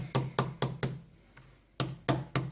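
Chili peppers lightly crushed for Tom Yum soup give sharp, close knocks, four in quick succession, a short pause, then three more.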